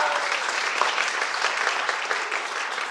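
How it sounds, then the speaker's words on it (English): Event audience applauding at a welcome, dense steady clapping from many hands throughout, moderately loud and even with no talk over it. "Yes, applause, yeah."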